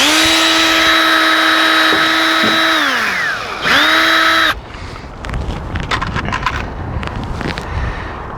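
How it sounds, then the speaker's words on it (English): A power drill bores a pilot hole into aluminium guttering with the smallest bit, its motor whining up loud and close, dipping and restarting once before cutting off into quieter rustling handling noises. "So I'm going to do a pilot hole."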